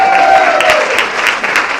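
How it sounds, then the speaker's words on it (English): Audience applause at a leadership conference rises as a dense, steady wash of clapping that carries through the whole moment, loud and close, with a brief tone fading out early on. "Round of applause for the floor cleaner."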